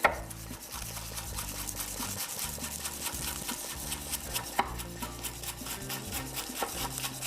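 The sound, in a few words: chopping green onions with a knife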